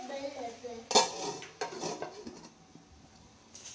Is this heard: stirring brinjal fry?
yes